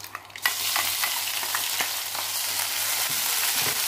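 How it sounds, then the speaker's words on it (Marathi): Ground spice paste (vatan) fries in hot oil with cumin and bay leaf for a spicy drumstick curry, giving a steady, close crackling sizzle with scattered pops and stirring scrapes throughout, no voices. "वाटण छान तेलामध्ये भाजून घेऊया"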